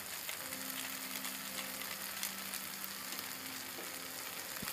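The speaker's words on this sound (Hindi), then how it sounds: "3 मसाला मैगी पैकेट्स को आप इसके साथ में ही, मसालों के साथ में ही भूनेंगे" Maggi masala spice packets frying with a tomato and onion mixture in a pan, a dense, steady hiss and sizzle close up, with faint scraping and a low hum beneath, no voices.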